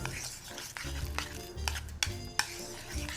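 Spicy mitmita chili powder being stirred into kibbe in a bowl, with a utensil clinking and scraping in irregular strokes and a few sharper knocks, close and moderately loud, with no talking.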